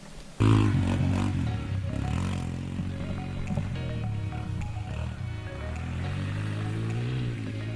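Dirt bike engine running steadily while being ridden, a loud close rumble with shifting pitch changes as the rider works through the gears, no talk over it.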